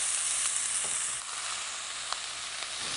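Meat sears in a hot pan before braising, a loud, dense and continuous sizzle heard up close with a few faint crackles.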